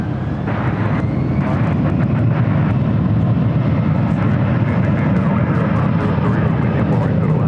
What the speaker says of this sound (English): Delta Airlines flight 538, this brand new A321 Neo